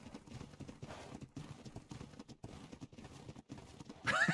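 A horse in a video game trots with rhythmic clip-clopping hooves, fairly quiet and close, with a brief burst of noise at the end.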